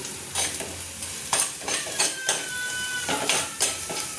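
Ginger, garlic and green chilli sauté with salt in a pan, making a soft sizzle under rhythmic scraping strokes of a spoon against the pan, repeated about every half second.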